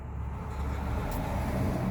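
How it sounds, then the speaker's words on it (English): Cars pass by on a nearby road, a steady low rushing hum that swells slightly as a vehicle approaches, fairly quiet overall. "you hear the cars coming by"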